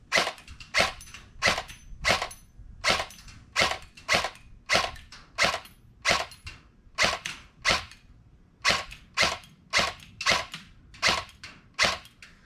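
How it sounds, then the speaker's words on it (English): An LCT LC-3 airsoft electric rifle fires BBs in a steady string of roughly two dozen sharp, close single shots at an even pace, each a crisp snap with a mechanical clack. No one speaks. "I'm shooting maybe about 30 feet or so"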